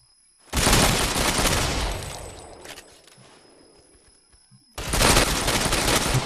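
Automatic gunfire in the shooter video game Ghost Recon Phantoms on an airport map: a long, loud, rapid burst that tapers into echoing tail and faint clicks, then another sudden close burst at the end, no talking.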